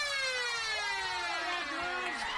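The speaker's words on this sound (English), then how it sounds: "But that's the siren." A long wailing end-of-game siren sweeps steadily up and down over crowd noise at a football grand final, carrying loud and continuous for the whole stretch.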